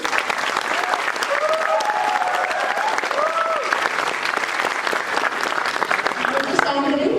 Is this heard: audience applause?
yes